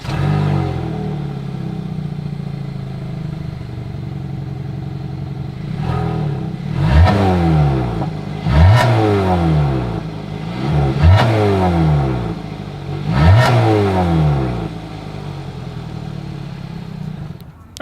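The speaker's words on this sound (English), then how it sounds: "here is that exhaust clip" A 2022 Hyundai Tucson SUV engine idles with a throaty exhaust burble, then revs up sharply four times, each rev swelling and falling back to idle.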